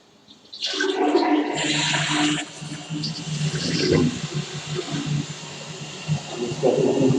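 A toilet flushes in a blind-accessible audio game, starting with a sudden rushing gush, then a long gurgling drain and refilling water that fades and swells over several seconds.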